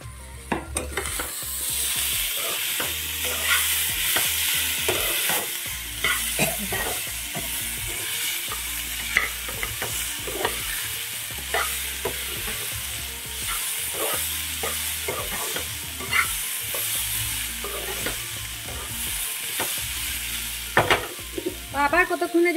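Chopped tomatoes and green chillies frying in a pan for a Bengali beans dish, a steady close sizzle broken by frequent scraping stirs, continuous and loud throughout with no talk.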